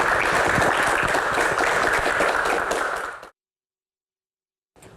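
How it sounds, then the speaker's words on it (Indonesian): An audience bursts into loud, dense applause at a religious Q&A show, clapping steadily for about three seconds, then stopping abruptly into silence before a brief further burst. "Tepuk tangan dulu untuk box pertama."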